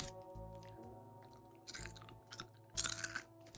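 Spicy chips being chewed close up, with several bursts of crunching that grow louder toward the end over a low steady background hum; no one speaks.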